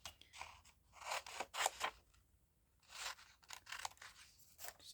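Scissors snip through paper while cutting out heart shapes, a quick series of close, crisp cuts in short bursts with a brief pause in between.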